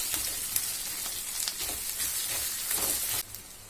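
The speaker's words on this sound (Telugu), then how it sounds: "వెల్లుల్లి పేస్ట్ వన్ స్పూన్ ఇది పచ్చివాసన పోయేదాకా కలుపుకోండి" Garlic paste fries in a hot pan with a dense, steady close sizzle, stirred with soft scraping strokes, before the sizzle drops slightly near the end, with no talk.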